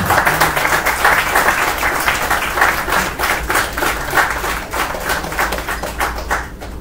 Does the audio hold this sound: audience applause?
yes